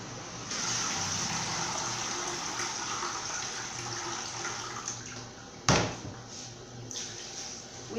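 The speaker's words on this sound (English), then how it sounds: "You need to add water in the eyo and then sieve it out" Hot and cold water poured into eyo for sieving while cooking abak atama, a steady close gushing stream running for several seconds, then a sharp knock and a fainter trickle.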